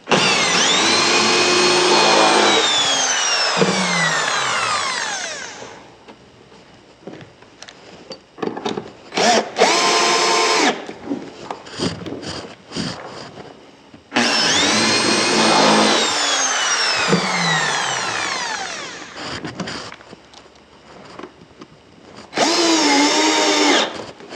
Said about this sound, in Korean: 맞추시고 똑같이 드릴로 상판을 고정하십니다